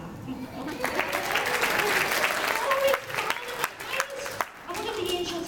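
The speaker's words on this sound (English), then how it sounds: "But that deserves a clap." Sustained applause from an audience gathered at a church Christmas service, a dense patter of many hands clapping for several seconds with brief voices mixed in as it tapers off.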